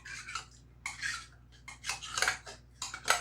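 A metal utensil scrapes and clinks inside a can of cream of chicken soup loosened with a little broth, in short irregular bursts of close, bright scraping, with no talking.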